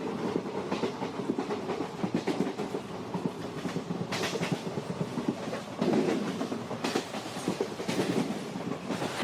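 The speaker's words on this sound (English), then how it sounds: "the speed of the train picks up" A train rolls steadily along the rails with a continuous rumble and rhythmic clickety-clack, close and fairly constant, gaining pace over several seconds with no voices.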